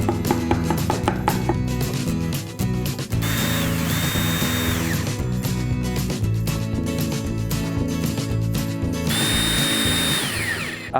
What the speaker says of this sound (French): trous avec un foret d'à peu près 8 mm de diamètre